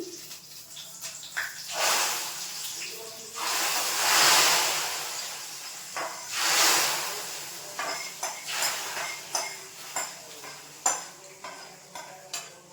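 Ghee-free tempering sizzles as it is added to Gobindobhog rice khichuri in a pot, swelling hisses of frying followed by a series of clinks and stirring scrapes of a utensil against the pot.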